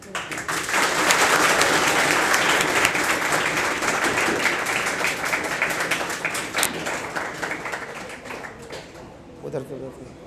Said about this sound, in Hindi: बच्ची को माल्यार्पण करें और ज़ोरदार तालियां आप लोग बजाएंगे।